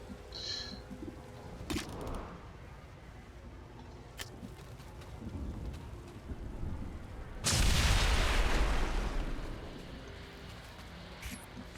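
A Claymore is shot and explodes in XCOM 2: War of the Chosen, setting a building alight: quiet ambience with a few sharp clicks, then one loud close blast midway that roars and fades over a few seconds.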